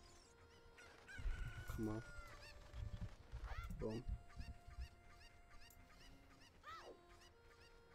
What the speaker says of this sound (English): she wants me to get the chickens?